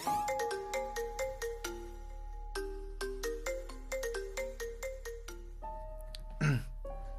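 A phone ringtone for an incoming call plays a clear, repeating melodic tune of bright notes, loud and close, followed by a short throat-clearing sound at the end.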